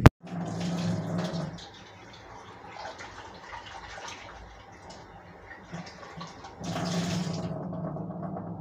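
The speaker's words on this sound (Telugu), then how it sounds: "చిన్న చిన్న పునుగుల్లాగా అలా వేసుకొని ఫ్రై చేసుకోండి" Small balls of laddu batter fry in hot oil with a steady, close bubbling sizzle. It swells louder at the start and again near the end, with no talking.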